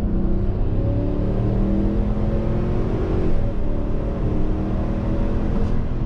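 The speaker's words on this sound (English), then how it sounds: "Hey guys, let's do an acceleration test on throttle." A 2021 GMC Yukon XL SUV with the 5.3-litre V8 pulls hard under full throttle, a steady loud engine drone with rising harmonics and road rumble, heard from inside the cabin with no talking.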